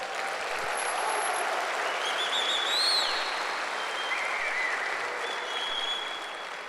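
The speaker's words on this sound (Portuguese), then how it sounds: "Então dá um aplauso a Ele." A church congregation at a Sunday service claps together in a sustained, even burst of applause, with a few whistles rising over the crowd.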